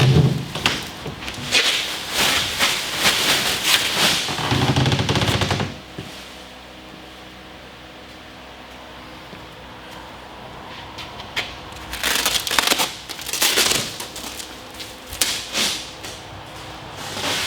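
Packaging torn and pulled off a crated ATC-810 commercial flight simulator: loud crinkling and ripping in rapid bursts, a quiet pause, then more tearing and rustling up close.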